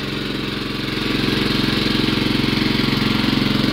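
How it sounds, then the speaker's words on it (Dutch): A rope pull-started engine on a fuel delivery truck runs with a rapid, even chugging beat, close and fairly loud, rising in level after the first second and holding steady. "Deze vrachtwagen moest hij de motor aantrekken met een touwtje."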